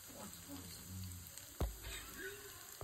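Green pepper fries in a pan for chicken pickle, a soft steady sizzle with a sharp scrape or knock of a stirring spoon partway through, close and fairly quiet.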